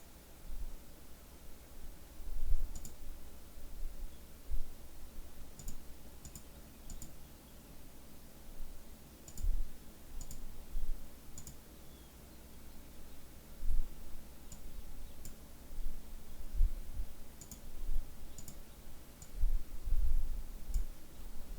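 A computer mouse gives small, sharp clicks at irregular intervals while notes are selected in music software, quiet and close over faint background hiss.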